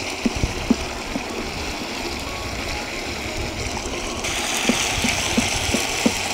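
A pan of fish curry base sits on a low flame as water cooks off, giving a steady close hiss and bubbling with a few scattered pops and ticks, with no voices.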